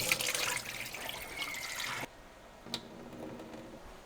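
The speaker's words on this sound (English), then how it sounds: "you need to clean well until the water is transparent" Uncooked rice is rinsed in water, a continuous splashing and rushing for about two seconds that drops to quiet trickling with a small clink near the end.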